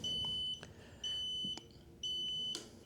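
On an EcoRi ZU06 1200W commuter electric scooter, the turn signal sounds a high, clean electronic beep. Three even pulses about a second apart, each roughly half a second long, come through quietly and close, with no talk over them.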